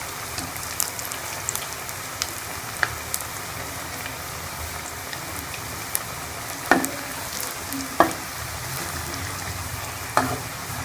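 Vegetable pakoras fry in hot oil with a continuous crackling sizzle, broken by a few sharp clicks and taps as they are stirred and turned, and no voices.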